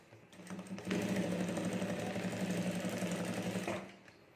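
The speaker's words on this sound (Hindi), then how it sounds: "कोई भी मशीन हो इसमें हमें फाइबर सीट के ऊपर एकदम मशीन स्लो ही चलाना पड़ता है" A sewing machine runs slowly and steadily, stitching a fiber sheet for a homemade clutch bag, a close, continuous mechanical whirr with a fast even rhythm that starts and stops cleanly.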